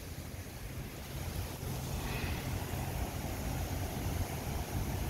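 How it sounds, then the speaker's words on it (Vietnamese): Surf washing onto the beach at Mui Ne, Phan Thiet, by a seaside resort, a steady faint wash of waves with wind noise across the microphone, continuous and without talk. "Đây là bờ biển."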